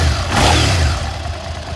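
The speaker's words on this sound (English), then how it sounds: "The fuel injected V-twin engine makes very good smooth power." A 2005 Suzuki SV650S sport motorcycle with a fuel-injected V-twin engine runs with a loud, steady, low rumble up close. The engine swells slightly in the first half-second, and no one speaks.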